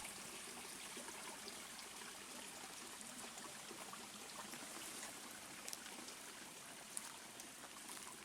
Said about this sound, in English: It's a nice place to slow down and enjoy the murmur of the water.